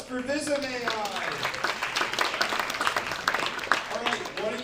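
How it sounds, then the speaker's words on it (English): Applause for Vism AI at a live tech demo night in San Francisco, a crowd clapping steadily for several seconds with voices and cheers mixed in and rising near the end. "Round of applause for Vism AI."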